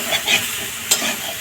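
Mushroom curry sautéing in a pan, a continuous close sizzle with a few brief scraping stirs of a spatula over about a second and a half.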